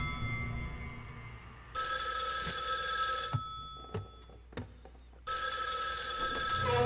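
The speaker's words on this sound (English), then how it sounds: "Suddenly the phone from the next room rings." A telephone in the Spirit Hunter: NG video game rings from the next room in two long bursts with a short gap of knocks and quiet between them, loud and shrill against low ambience.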